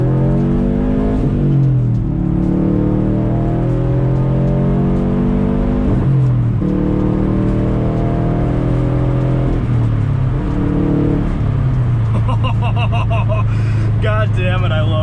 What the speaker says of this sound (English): we're gonna launch the car